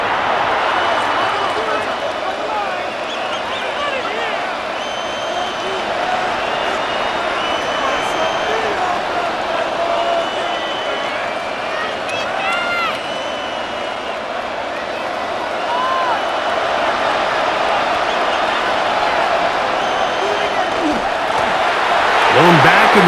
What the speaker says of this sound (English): And they're going to hear it from this crowd.